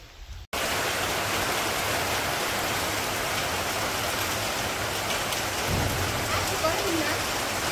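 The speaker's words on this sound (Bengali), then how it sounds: "বৃষ্টি ভালোই শুরু হয়েছে।" Steady rain pours down in a village, a loud, continuous broadband hiss that starts abruptly after a brief quiet moment and holds evenly throughout.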